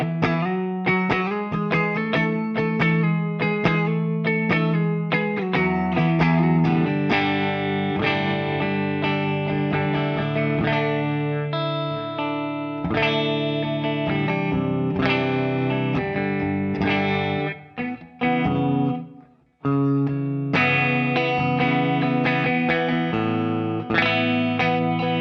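Electric guitar played through an ML Sound Lab GNR Marshall Slash amp simulator on a rich clean setting: a steady stream of full, ringing chords and notes with a brief drop-out near the end, alone with no talking.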